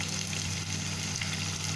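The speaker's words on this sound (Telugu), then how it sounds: "కొద్దిగా సాల్ట్ యాడ్ చేస్తే ఉల్లిపాయ తొందరగా ఫ్రై అవుతుంది" Sliced onions with salt and turmeric fry in a pot for dhaba-style mutton biryani, making a steady, even sizzling hiss at moderate volume over a faint low hum, unbroken and without speech.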